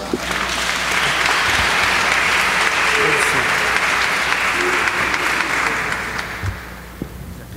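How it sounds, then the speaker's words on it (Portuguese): Sustained, dense applause from a gathered audience for Nayara, loud and continuous for several seconds before thinning out and fading near the end. "Salva de palmas para Nayara"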